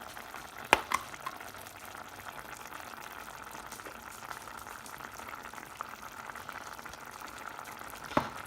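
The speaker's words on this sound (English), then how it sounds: "So now I'm checking the soup after 25 minutes of boiling" Brussels sprout and potato soup boils in a pot with a steady soft bubbling burble, broken by a couple of sharp clinks near the start and end.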